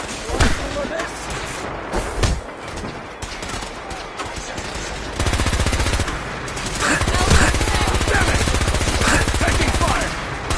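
Machine-gun fire in Fallout 4, dense sustained rapid bursts building into a heavy continuous barrage, with scattered shouted voices in the mix.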